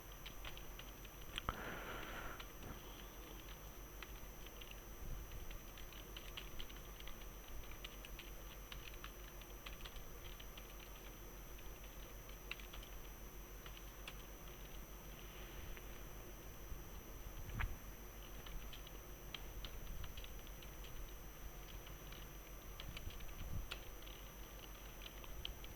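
Keys patter on a computer keyboard as HTML code for an ASP server page is typed, soft and fairly steady, a quiet, close clicking over a low background hum.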